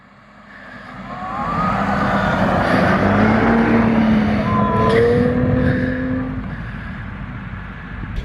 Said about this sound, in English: I'm about to drag race Eddie in the slowest drag race of all time